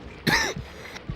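A single sick, rough cough with a throat-clearing quality bursts out close and loud, followed by a couple of softer low throat sounds.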